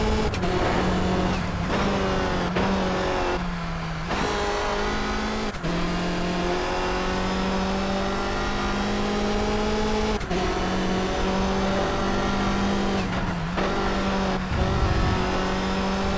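A race car engine in Toca Race Driver 3 on PS2 holds a loud, steady high-revving drone at full throttle, with brief dips and gear shifts through a corner, close and continuous with no talk.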